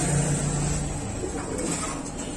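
Pigeons in a pigeon shop in Meradiya give soft, low cooing over a dense, busy background of birds, with a brief deeper hum near the start.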